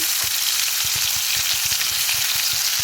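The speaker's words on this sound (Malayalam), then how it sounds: "അതേ എണ്ണയിൽ നമുക്കിനി നമ്മളുടെ ചെമ്മീൻ ചേർത്ത് വറുത്തെടുക്കാം" Prawns frying in hot oil for a prawn biryani, making a loud, dense, continuous crackling sizzle close up, with quick regular scraping thumps of stirring running throughout.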